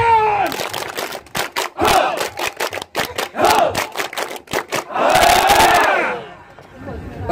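Soldiers of the Raider 500 Sikatan Infantry Battalion perform a rhythmic group clap chant at a New Year 2020 celebration: sharp, loud unison claps in a patterned beat, interspersed with shouted crowd voices and a closing roar.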